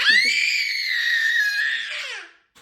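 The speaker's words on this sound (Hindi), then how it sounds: "और अभी ऐसे चीख रही है।" A young girl cries and screams in a long, loud, high-pitched wail that holds steady, then trails off and breaks at the end, with a short whimper after.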